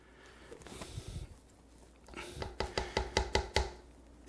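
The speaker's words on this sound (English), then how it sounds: "give it a little bit more of a mash." Food mashed in a bowl with green onions, a series of about eight quick, close, wet squelching presses in steady rhythm after a couple of softer strokes.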